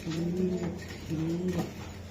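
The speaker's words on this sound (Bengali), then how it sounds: "এই যে এটা মাদি কবুতর মাদি ভাই" Racing pigeons coo close by in two soft, low, throaty phrases separated by a short pause, with no talking.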